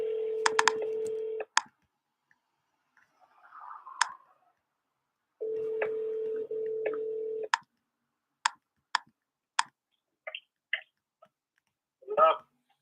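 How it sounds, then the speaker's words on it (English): Telephone dialing out for a real estate wholesale cold call: two long steady busy-type tones, a burst of faint handling noise between them, then a run of sharp separate dialing clicks and short beeps ending in a brief rustle. "I'm going to call him right now. And I'll do the same thing, dial out"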